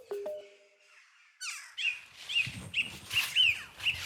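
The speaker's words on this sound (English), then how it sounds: "birds really hate tree snakes and will scold and chatter and chitter" Birds in Australian bush scolding and chattering at a common tree snake, with repeated sharp chirps and squawky calls coming in bursts, fairly close and loud, after a quiet start with a few brief knocks.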